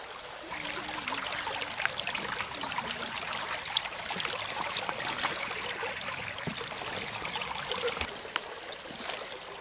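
Creek water flows in a constant close rush and trickle, a steady broadband wash that runs alone without any talking.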